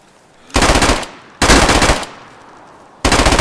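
A PPSh submachine gun fires in DayZ, three loud, rapid full-auto bursts of roughly half a second each, separated by short pauses.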